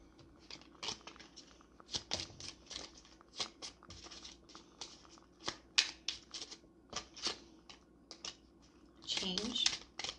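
Tarot cards being shuffled and drawn, a run of quick crisp riffles and slaps close up, repeating in short bursts with a longer flurry near the end.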